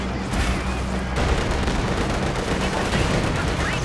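A grenade blast amid gunfire in Company of Heroes 2, a sharp explosive burst followed by a continuous loud wash of rifle and machine-gun fire and battlefield rumble.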